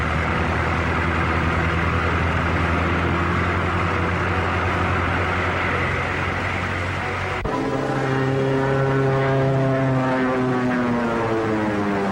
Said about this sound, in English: Biplane, two-seater, eh?